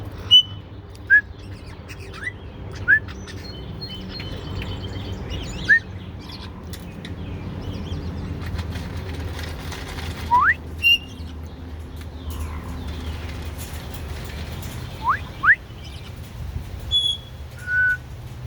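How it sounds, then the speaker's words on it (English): Pet birds in an outdoor aviary give short, scattered whistles and chirps, some muffled as if from inside a plastic container, with brief sharp clicks over a faint low background hum. "Kind of muffled, Kyle, when you whistle inside that plastic container."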